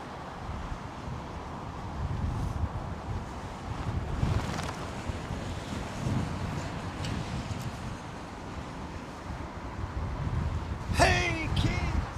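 Strong, steady wind buffets the microphone at Heathrow Airport, a continuous low roar with louder gusts near the middle and end, and a brief higher whine close to the finish.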